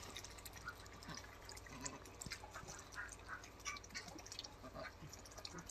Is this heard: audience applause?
no